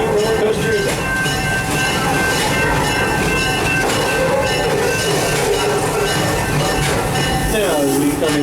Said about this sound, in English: as we come into the station here, please be reminded to stay seated till this train has come to its full and complete stop